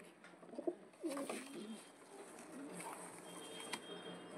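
A female pigeon coos softly in a few low, throaty bursts, faint against a quiet background.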